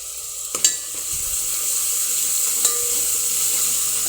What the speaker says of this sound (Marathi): अद्रक लसूणची पेस्ट आपण मंद आचेवरच तळून घेणार आहोत